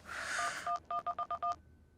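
A quick run of telephone keypad tones, six or seven short beeps in a fast, even rhythm, clear and close, with no talking.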